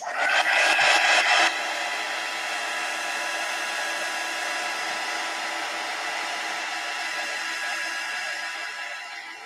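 A hair dryer blowing over a mixed media collage to dry paint, a steady close whooshing hum that starts a little louder and then holds at an even level throughout.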